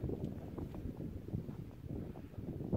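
Wind blows outdoors at a wild camp in the Lake District, a continuous low rumbling buffet against the microphone with gusty swells and no other sounds.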